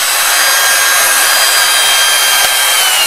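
Rotary machine wet-sanding a scratch in car paint, run at very low speed with light pressure; a steady, close, broadband rubbing whir continuous throughout, with no voices.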